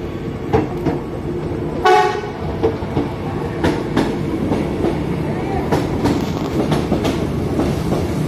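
An airport rail link train pulling into a station platform, with steady rumbling and rhythmic wheel clacks, a short horn blast early on, and announcements echoing over the platform.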